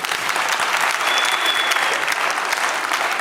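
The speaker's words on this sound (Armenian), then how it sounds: "եկեք ծափարենք" Audience applause at an Armenian comedy game show, a steady, dense clapping from a full crowd that stays loud and even for the whole stretch with no voices on top.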